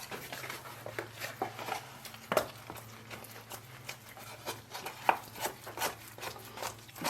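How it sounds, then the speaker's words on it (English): Tile grout being stirred in a bucket to a thick, peanut-butter-like paste for a kitchen backsplash: steady scraping and rubbing with irregular knocks of the mixing tool against the bucket walls, close and fairly quiet. "let's mix this grout so there's a sort of like a peanut butter consistency"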